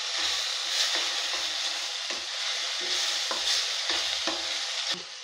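Chole masala cooks in a pan, with a steady sizzle under repeated scraping stirs of a spoon that come in an irregular rhythm, close and continuous.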